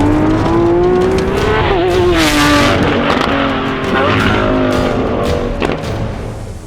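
Lamborghini Aventador SVJ with its V12 engine, heard from inside while driving: a loud, continuous engine drone that climbs and settles with throttle changes, with a brief tire-squeal-like tone, no speech over it.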